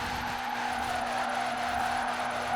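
Sustained tyre screech from a car drifting hard in Forza Horizon 4, a loud, steady squeal riding over constant engine roar for the whole stretch, close and unbroken.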